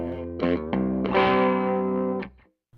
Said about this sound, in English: So now I switch over to the Marshall with the Flying V with standard humbuckers, and we're going to go for a drop-tuned, heavier metal distortion.